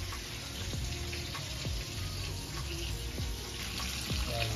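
Tap water running in a home kitchen while something is rinsed during cooking, a steady close splashing gush with a few faint clinks over it.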